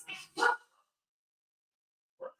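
Dogs barking indoors in the background of a remote interview, with a couple of quick barks close together and a single short bark after a pause.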